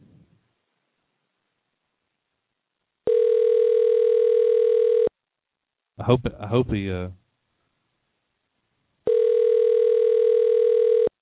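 A telephone ringback tone sounds twice during a call, each burst a steady electronic tone lasting about two seconds with a long silent gap between. A brief spoken phrase falls in the gap.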